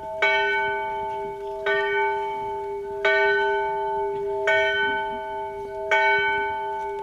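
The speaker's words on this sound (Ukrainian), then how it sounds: "Скорботні дзвони, як данина пам'яті загиблим, впродовж 10 хвилин одночасно лунали у всіх храмах Прикарпаття." Mourning church bells toll across the temples of Prikarpattia at a reburial ceremony, with five evenly spaced resonant strikes about every one and a half seconds, each ringing on over faint background noise.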